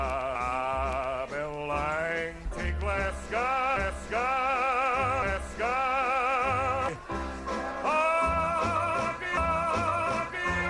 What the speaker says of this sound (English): you can hear the people singing in the background